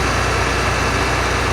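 A tractor engine runs nearby with a steady, dense, loud mechanical drone and low rumble that stays constant throughout, with no voices.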